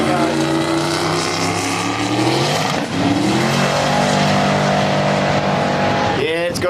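A roll racing drag car at a street drag event, loud engine roaring and climbing in pitch through the gears, with a commentator talking over it and crowd ambience behind.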